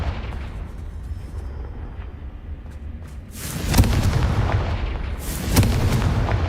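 A Confringo fire spell explodes in Hogwarts Legacy: a loud, booming blast bursts out after a low rumbling backdrop, followed by a second heavy impact, all close and powerful.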